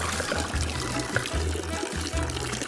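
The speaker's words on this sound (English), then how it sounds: "First, you pour the water in." Water is poured into cups to set up a walking water science experiment, a steady liquid pour with trickling that runs the whole time beneath low, even background music.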